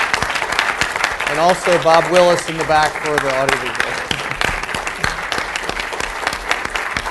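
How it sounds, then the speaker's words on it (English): Loud audience applause at a Q&A closing session, dense clapping filling the room throughout while someone speaks over it. "can we give them a big round of applause?"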